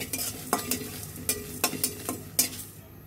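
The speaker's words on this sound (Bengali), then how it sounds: "আমাদের 5 ফোড়নগুলো ভাজা হয়ে গিয়েছে" Panch phoron five-spice seeds dry-roasting in a pan, with a steady low sizzle broken by several sharp scraping stir strokes at irregular intervals, close and moderately loud.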